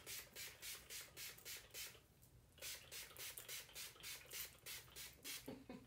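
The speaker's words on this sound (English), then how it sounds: "I'm just going to spray this to make all of the powders blend in nicely" Repeated quick hissing sprays of a fine facial setting mist over powder makeup, about a dozen bursts in steady rhythm, close and soft, with a brief pause partway through.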